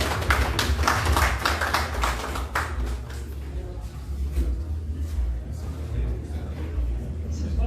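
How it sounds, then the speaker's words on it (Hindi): An audience at a state teachers' meet applauds for Umesh Singh, a dense patter of clapping loudest at first, then thinning into scattered claps over a low hall hum. "उमेश सर के लिए एक बार जोरदार ताली बजा दें।"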